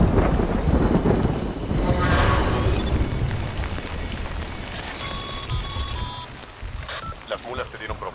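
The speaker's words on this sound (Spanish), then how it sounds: "Menos mal que llovía." Heavy rain and rolling thunder in the video game Death Stranding, a loud thunderclap opening over steady rainfall, followed by chiming synthetic tones and softer rain near the end, with faint talk underneath.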